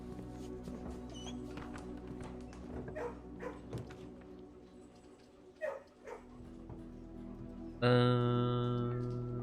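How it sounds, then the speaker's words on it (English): Dog barking in the video game Blue Prince: a few short yips and barks rise over a steady, droning game soundtrack, followed by a louder sustained tone near the end. "Dog."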